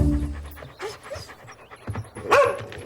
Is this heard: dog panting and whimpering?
yes